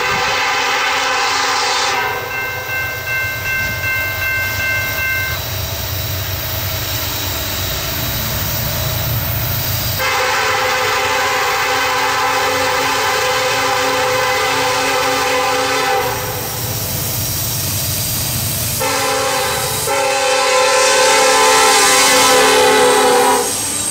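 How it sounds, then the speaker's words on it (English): KCS 4006, Train 219, accelerates past at speed, a loud diesel roar and rolling rail rumble with repeated long horn blasts sounding nearby, continuous throughout. "Train 219 picks up speed towards the junction to head due west at Austell"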